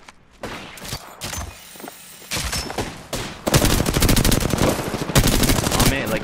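Sustained automatic gunfire in an Apex Legends close-range fight, scattered shots at first, then dense rapid bursts that grow loud and near, with a player talking over parts of the exchange.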